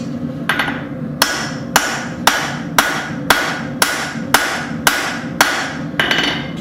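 Hot steel for a Bowie knife being hammer-forged into a taper, ringing out as about ten sharp, evenly spaced hammer blows, loud and close, with no talking.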